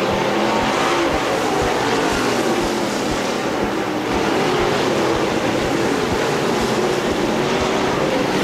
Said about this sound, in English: Tony Martin's up in the marbles running high.